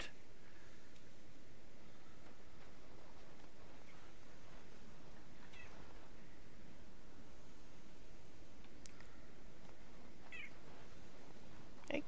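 A pet cat named Gidget meowing a few times, faint and widely spaced against a constant background hiss.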